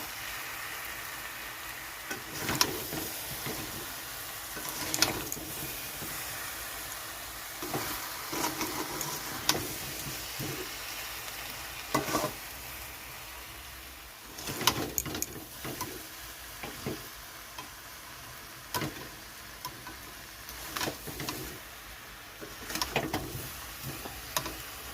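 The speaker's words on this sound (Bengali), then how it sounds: "চিনিটা যতক্ষণ না গলবে ততক্ষণে নাড়তে হবে বারবার, না নাড়লে মিষ্টি তো পুড়ে যাবে।" Sugar being stirred in a pan as it melts for a sweet mango pickle, with repeated scraping clicks and soft rustles coming at an irregular pace over a low, steady background, close and fairly quiet, with no talk.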